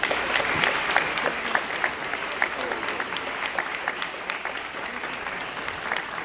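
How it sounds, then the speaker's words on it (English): Applause from the audience at an alumni banquet, a steady wash of many hands clapping with crisp individual claps standing out near and far, continuous for the whole stretch. "Please give them another round of applause."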